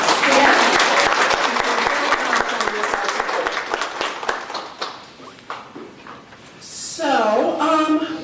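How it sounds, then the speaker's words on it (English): A crowd claps steadily and loudly at a 2018 legislative listening session, with the applause tapering off after about five seconds before a voice begins speaking. "Can I just round of applause?"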